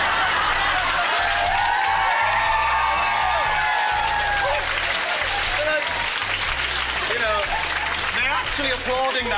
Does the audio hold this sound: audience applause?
yes